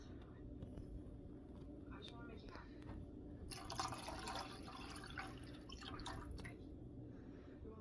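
A cup of milk is poured into creamed chicken cooking in a pan, a soft dripping, splashing pour heard faintly amid low kitchen noise.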